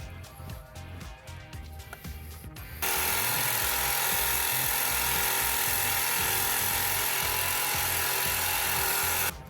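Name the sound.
carbide toothed saw blade cutting through a metal camber arm bolt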